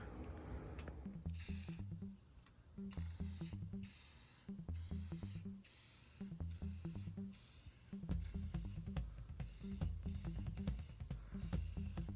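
A spray can of orange Rust-Oleum paint coats a Browns football helmet in repeated short hissing bursts with brief pauses between them, close and fairly loud.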